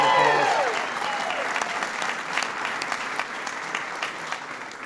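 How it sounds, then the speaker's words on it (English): A crowd at an LGBT Pride reception applauds Roberta Achtenberg, a federal appointee, with dense, sustained clapping. A voice trails off at the start, then the applause rolls on fairly loud and even throughout. "Give Roberta a big round of applause"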